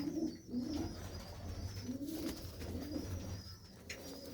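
Several male pigeons coo repeatedly in low, rolling phrases, a steady murmur close by with faint background hiss.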